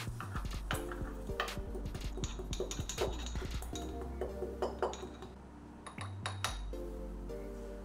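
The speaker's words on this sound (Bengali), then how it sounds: "এবারে আমি নিয়ে নিলাম একটা পেসেল মর্টার, আর তার মধ্যে আমি ঢেলে নিচ্ছি মৌরি।" Fennel seeds, raw and unroasted, are crushed in a mortar and pestle while making palm malpua. Repeated sharp clinks and taps of the pestle striking the mortar sound close and steady, some louder knocks among the lighter ones.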